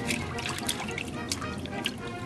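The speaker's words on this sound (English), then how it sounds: "So here is our soaked article of clothing. We're going to put it in our wash water." A soaked article of clothing is lowered into a tub of wash water on a Civil War-style laundry day, giving close, continuous sloshing, trickling and dripping with small splashes and no speech.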